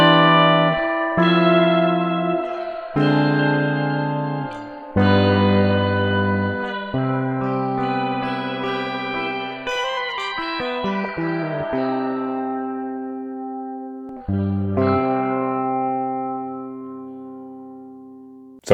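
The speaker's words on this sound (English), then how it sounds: "we will get a shimmer spring reverb that can sound like this" An electric guitar plays sustained chords drenched in shimmering spring reverb, bright high overtones swelling and trailing off in long echoing tails.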